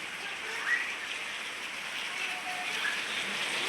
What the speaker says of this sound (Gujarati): વરસાદ ચાલુ.